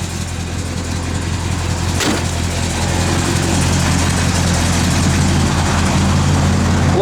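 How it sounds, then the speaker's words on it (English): The blower motor of a 1967 Plymouth GTX runs with a steady, loud whooshing drone over a low engine hum, constant throughout with one brief click near the start. "Blower motor works, guys."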